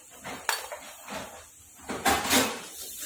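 A spoon scraping and knocking inside a pot while mixing salt, red chilli and turmeric into a tadka, with irregular metallic clinks and scrapes in a few bursts, close by and no talking.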